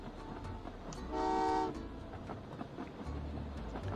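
A train in the railway puzzle game Train Valley 2 rolls by, a short steady horn toot sounding over a soft rumbling ambient background.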